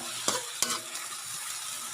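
Kangkong (water spinach) sizzles in a hot pan with a little soy sauce, a steady loud frying hiss broken by a few stirring scrapes, with no talking.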